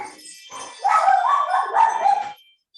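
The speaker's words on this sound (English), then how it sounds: "That's my dog, Pepper." A dog barks close by: a short quiet yip, then a couple of loud, drawn-out barks or howling yelps in quick succession before it falls silent.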